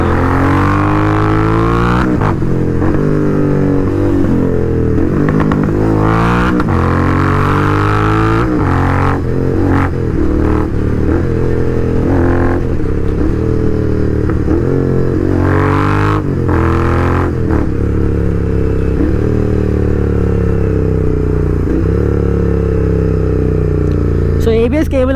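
A motorcycle rides through traffic, its engine note rising and falling steadily throughout with several sharp rev surges and passing road noise close by.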